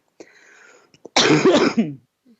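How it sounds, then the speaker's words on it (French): A brief, harsh cough burst, close and fairly loud, preceded by a faint hum and small clicks, then fading out. "Le fait de tousser, c'est déjà une belle façon d'exprimer ce travail énergétique."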